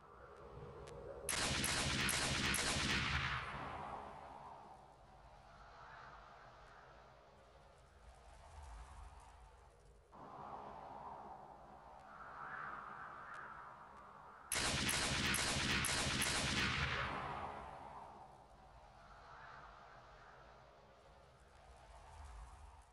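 Gunshots in the video game America's Army come as two loud bursts of rapid fire separated by quieter ambient stretches, each burst cracking sharply then fading.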